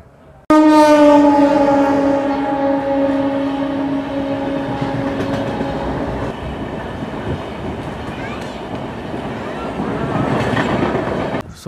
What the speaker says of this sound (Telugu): సో ఇదే మన ట్రైన్.